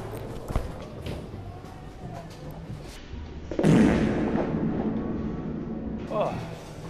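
A 20 lb bowling ball rolls down the lane and crashes into the pins midway through, a loud burst of clatter that rattles on and fades against steady alley background noise.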